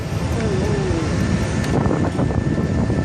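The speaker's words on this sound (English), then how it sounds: "a Singapore Airlines jet made an emergency landing at Singapore Changi Airport with its right wing and engine on fire" Jet engine of a Singapore Airlines airliner during an emergency landing at Singapore Changi Airport with its right wing and engine on fire: a steady, loud roar with wind noise and a brief descending whine, no speech.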